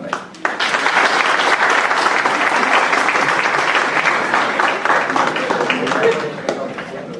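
An auditorium audience at a university conference on collective rights breaks into loud, sustained applause that swells quickly and holds for several seconds before tapering slightly, with faint voices mixed in.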